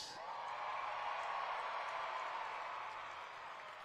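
Arena crowd at a Monster Jam event in Sacramento, California, cheering steadily; a broad, far-off roar that swells slightly and holds for several seconds with no clear talk on top.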